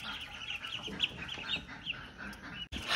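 About a hundred twelve-day-old ducklings on a farm, heard as a steady chorus of high, overlapping peeps and chirps close by, with no talk.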